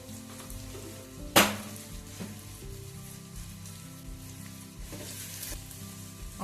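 Lengthwise-sliced onions sizzle in hot oil in a pan, a soft, continuous frying crackle with one sharp spatter or stir clatter near the start and a few lighter stirs later.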